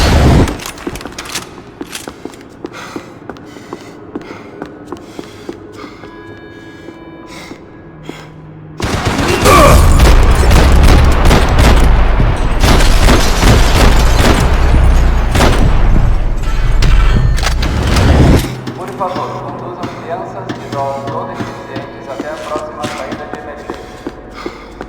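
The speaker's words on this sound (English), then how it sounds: "Grenades." Grenade blasts and gunfire in the Max Payne 3 shooter game, with a loud sustained barrage of explosions and shots in the middle section, framed by quieter scattered game sounds and brief voices.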